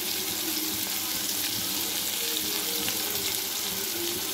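Onion, green chili and capsicum fry in hot oil in a pan, giving a steady, moderately quiet sizzle with a few faint stirring clicks and no voices.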